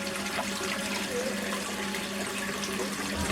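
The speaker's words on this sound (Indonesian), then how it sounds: "aku bakalan ngambil dulu airnya." Water is scooped from a fish pond into a container, producing a continuous close splashing and trickling rush with no pauses.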